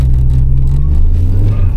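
A Vanden Plas car engine revs hard in a confined car park, a loud, steady low rumble with rising vroom throughout, close to the microphone and mostly alone, with only faint voices.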